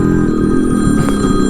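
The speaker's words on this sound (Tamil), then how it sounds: "ஃபோன் அடிக்குது" A mobile phone rings loudly and close with a steady electronic ringtone tone, heard during a night motorcycle ride on a Yamaha RX135 near Yelagiri.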